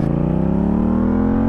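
A Yamaha MT-07 two-cylinder naked motorcycle engine revs up close and loud, a throbbing pulse rising steadily in pitch as the revs climb, with no talking.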